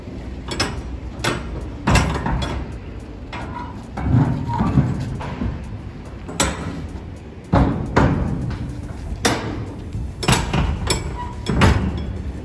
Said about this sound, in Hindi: फिर कंटेनर के दोनों दरवाजों को बंद कर दिया जाता है